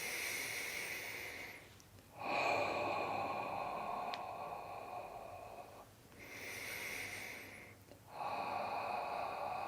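Two long, slow exhalations through the mouth, each a soft, airy breath lasting a few seconds, separated by brief quiet pauses for inhaling, close and unhurried with no talk.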